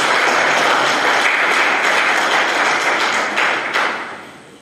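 Sustained audience applause at a 25 April commemoration event in Italy, dense and loud throughout, tapering off near the end.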